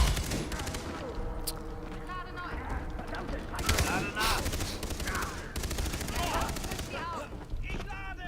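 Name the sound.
gunfire in Far Cry 3 video game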